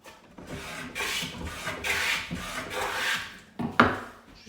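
A No. 5½ hand plane smoothing the faces of timber in a workshop gives repeated rasping, shaving strokes, about four or five long passes close by, with a sharper scrape near the end and no talk.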